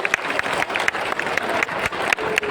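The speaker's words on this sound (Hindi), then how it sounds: "एक बार जोरदार तालियां" Loud, dense applause from an audience at a Janmashtami gathering fills the whole stretch, a steady wash of many hands clapping with sharper individual claps popping out, no speech over it.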